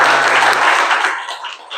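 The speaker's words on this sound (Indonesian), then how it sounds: "Tepuk tangan." Classmates applaud at the start of a sociology class presentation, a brief burst of close, dense clapping that tapers off within about two seconds.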